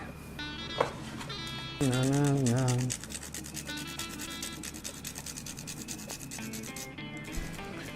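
Nutmeg is grated into a potato croquette mix, giving quick, rhythmic scraping strokes close by over melodic background music.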